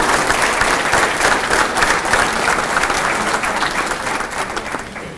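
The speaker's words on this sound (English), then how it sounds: "So how about a nice round of applause for our inductees and awardees tonight" Sustained applause from a banquet audience honoring bowling hall of fame inductees and awardees, steady and fairly loud throughout, tapering slightly at the end.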